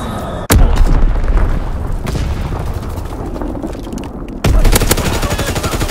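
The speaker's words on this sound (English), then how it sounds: "popping Flitz X bomb" A Flitz X bomb exploding in a video game, two sharp heavy booms a few seconds apart over a continuous loud rumble of battle noise, with no talk.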